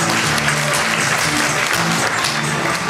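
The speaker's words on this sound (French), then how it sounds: "on applaudit Guignol" An audience claps steadily for a Guignol puppet show, a dense, continuous ovation of many hands filling the room at close range with no let-up.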